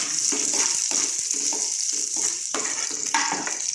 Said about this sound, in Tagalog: Siyempre magigisa tayo ng sibuyas, bawang.